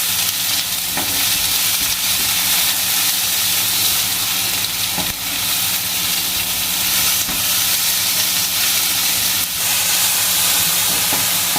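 Chicken steaks frying in hot oil in a pan, a loud, dense, continuous sizzle and hiss heard up close with faint scraping taps now and then, no voices.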